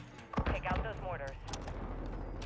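Gunfire from the video game Call of Duty Modern Warfare 2 on the Hafid Port defender mission, with a burst of sharp shots early on, then a rumbling battle din and scattered impacts.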